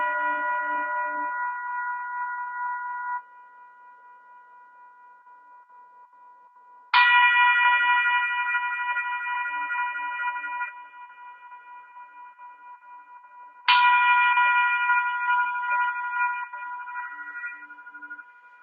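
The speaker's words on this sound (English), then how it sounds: "I'll ring the bell and then we'll begin." A meditation bell rings three times at a slow, even pace, each clear metallic strike sustaining with bright harmonics before fading, alone in a quiet room.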